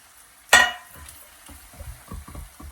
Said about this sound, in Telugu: క్లీన్ చేసి పెట్టుకున్న చేపలు వేసుకుందాం.